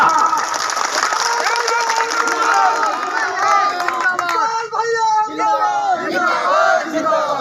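A large political rally crowd in a village tent, loudly shouting slogans in unison, with waves of cheering and some clapping mixed in, close and continuous throughout.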